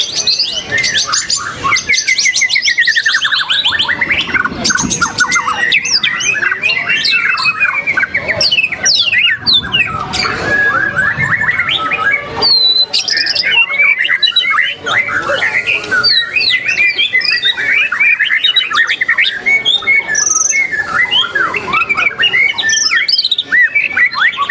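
A white-rumped shama (murai batu) songbird sings close and loud in a long, unbroken stream of varied whistles, trills and chirps. The song never pauses for the whole stretch.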